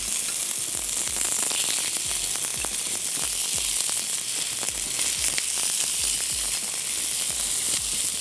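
Gola kebabs sizzle on a hot plate with onions and tomatoes, a dense, steady crackling fry that runs loud and close throughout, with frequent small pops and no talking.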